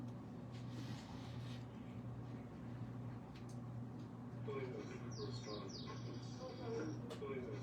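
A small bird chirps outdoors in quick, high bursts that cluster toward the end, fairly faint against a low steady hum and murmuring background voices.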